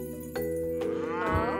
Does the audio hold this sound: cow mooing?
yes